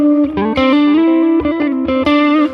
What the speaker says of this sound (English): it's got a little bit of a delay and a reverb on it.